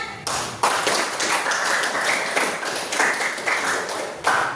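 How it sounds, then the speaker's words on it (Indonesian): A classroom group claps hands together, a steady, dense patter of many hands starting just after the opening and carrying on throughout, with a few louder surges. "Terima kasih, tepuk tangan."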